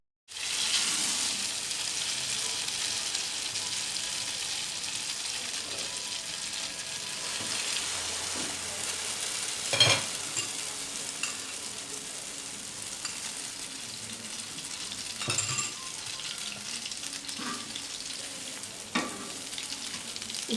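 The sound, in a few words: bread slices for French toast frying on a tawa griddle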